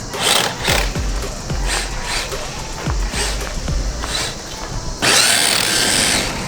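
The motor of a Tamiya Mini M05 front-wheel-drive RC car spins the front wheels in a high, whining buzz that comes in repeated short revving bursts. It ends in a louder, steadier whir, with faint voices in the background.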